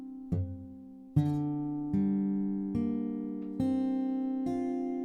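Guitar chord from a song's chorus plucked one string at a time, six clear notes ringing out in turn with roughly even spacing, each attack bright and then sustaining, played close and alone.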